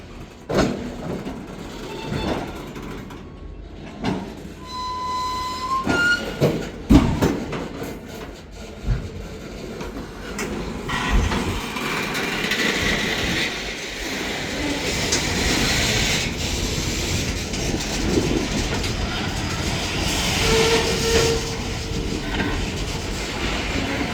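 Freight train led by an SD40-2 locomotive rolling past at close range, a loud sustained rumble with metallic clanks and wheel noise building steadily and continuing to the end.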